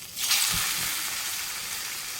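Peanut fritters are dropped one by one into hot refined oil in a kadai, setting off a loud, bright, continuous sizzle with a couple of soft plops at the start, and no speech.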